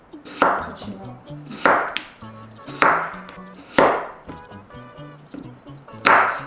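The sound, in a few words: knife chopping potatoes on a cutting board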